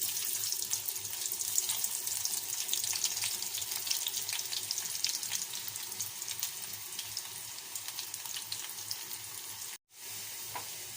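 Sliced onions deep-fry in hot oil for zurbiyan, a steady bubbling hiss that runs unbroken, with a brief dropout near the end before the sizzling resumes.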